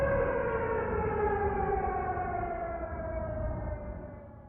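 A sustained chord of wailing civil-defense-style sirens from a performance of Avraamov's Symphony of Sirens, several loud overlapping tones sliding slowly downward in pitch together and fading slightly at the end.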